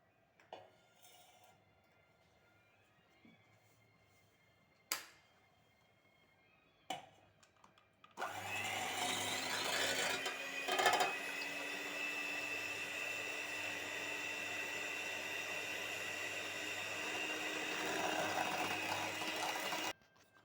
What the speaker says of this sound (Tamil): இப்போ நம்ம வந்து எடுத்து வச்சுருக்க வெள்ளைக்கருவை வந்து நல்லா பீட் பண்ணி எடுத்துக்கலாம்